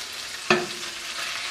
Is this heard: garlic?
yes